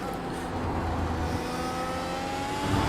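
A race car in iRacing runs over the saw-tooth curbs at Mugello, a steady, loud engine drone blended with a continuous buzzing rumble from the tyres for about three seconds.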